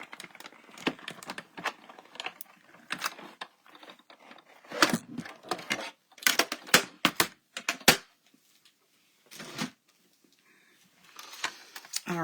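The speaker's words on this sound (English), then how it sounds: "And I'm going to run this through the die cut machine." A die cut machine runs a die through card stock for a floating tent fold card, giving intermittent bursts of crisp clicking and crinkly crunching separated by short quiet gaps, with no talking.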